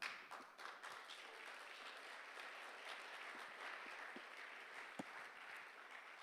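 An audience applauds an artist at a conference session, even sustained clapping from a moderate distance with a few sharper individual claps standing out near the end.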